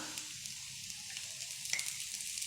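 Ghee poured onto a hot dosa griddle sizzles softly while Karnataka-style akki roti cooks, a quiet, even frying hiss with small crackles and no voices.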